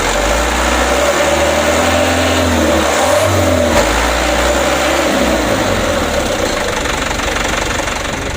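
A Mitsubishi diesel engine running steadily and smoothly after a Bosch injection pump repair, with a loud, continuous knocking rumble heard close up throughout and no talk.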